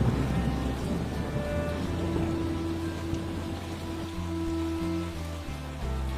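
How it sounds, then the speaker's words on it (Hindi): Steady rain hissing down continuously, with soft sustained musical tones underneath. "राजू बारिश में भीगते हुए खेत की ओर चला जाता है"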